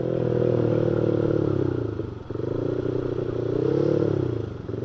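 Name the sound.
Honda Vario motorcycle engine revving with free-flow exhaust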